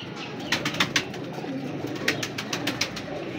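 Pet pigeons in a breeding loft, shown in pairs by their keeper, make soft coos. Bursts of rapid, sharp clicks or flutters come in two clusters, near and fairly loud, with no talking.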